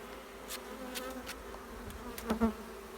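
Bees buzz around honeycomb being cut from a log hive, a steady close hum with a few louder passes near the end.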